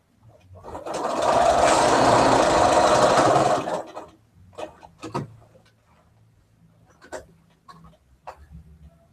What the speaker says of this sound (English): So I've just put green in the top bobbin for the top stitching.